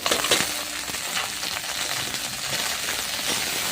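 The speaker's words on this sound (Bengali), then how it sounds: "ভেন্ডিটা পেঁয়াজের সাথে একটু ভেজে নেবো" Okra frying with chopped onions in mustard oil in a wok, a continuous crackling sizzle broken by a few sharp clicks and scrapes of stirring, fairly close; no speech.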